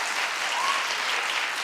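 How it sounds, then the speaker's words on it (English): A live audience claps in a brief, dense burst of applause, steady and full throughout, with no voices standing out above it. "Clap if you know who Robin is."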